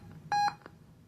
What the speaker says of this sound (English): And this is the test tone, or beep tone.